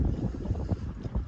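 A sailboat glides over water in light wind, with a soft rushing wash and gentle buffeting throughout, no voices.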